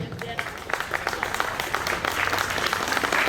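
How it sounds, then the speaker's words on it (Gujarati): Crowd applause with scattered claps at a school welcome ceremony, steady and fairly dense throughout, with a murmur of voices underneath. "આપ સૌની તાળીઓના નાદ સાથે"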